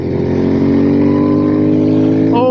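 A Royal Enfield Interceptor 650 motorcycle engine with an aftermarket pipe pulls hard under acceleration, a loud, steady, close drone that climbs through the gear, with the pitch rising sharply near the end.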